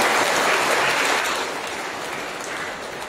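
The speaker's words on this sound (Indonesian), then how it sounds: "Kita berikan aplaus kepada" Congregation applauding during a Catholic mass in March 2022, a dense, steady wash of clapping from many hands in a large space that eases slightly partway through, with no voices over it.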